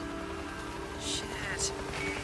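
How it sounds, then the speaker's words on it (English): Rain falls steadily in the Days Gone game world, a soft continuous hiss with a few brighter splashy bursts rising briefly near the end. "Starting to rain."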